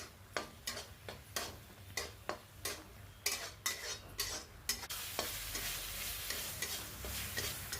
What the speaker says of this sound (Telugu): చింతపండు గుజ్జు వేసిన తర్వాత బాగా ఉడికించాలి.